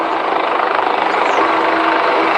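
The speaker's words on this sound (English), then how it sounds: "We hear the helicopters in the sky." Helicopters thrum steadily overhead during Pope Francis's funeral, a loud continuous rotor drone with a rapid chopping pulse and no break throughout.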